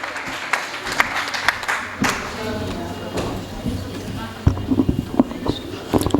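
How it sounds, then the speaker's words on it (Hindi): An audience claps for poet Geetu Maheshwari at a Hindi poetry recital, with uneven bursts of applause and thumps and a voice speaking over them. "जोरदार तालियां गीतू महेश्वरी।"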